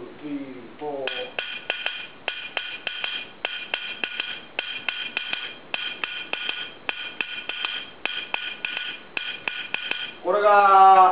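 Taiko drum practice pattern played as rapid, evenly spaced sharp strikes in repeating groups, crisp and close, with a voice speaking briefly before and after the drumming.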